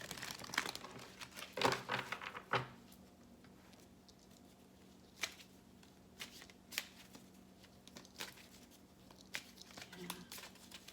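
Tarot cards are shuffled at close range in quick bursts of papery riffling and flicking, loudest early, then sparse single taps and slides, with quiet talk in between.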